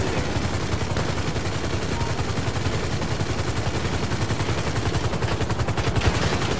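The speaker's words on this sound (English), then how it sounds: "Hummer's shooting at me. He's got that godlike aim with the Annihilator." Sustained rapid gunfire from an Annihilator helicopter in GTA Online, a loud, dense, unbroken rattle of shots running for the full length, with helicopter rotor noise mixed in.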